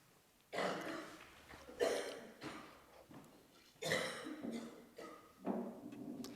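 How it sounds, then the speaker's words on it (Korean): Coughing from a congregant during a Korean Thanksgiving Sunday church service in Toronto, several separate coughing bursts spread across the moment, moderately loud in a quiet room with no talking. "기침해도 돼."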